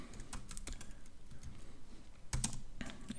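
Code being typed on a computer keyboard, with quick irregular clicks and a louder cluster of keystrokes near the end, close and clear with no talking.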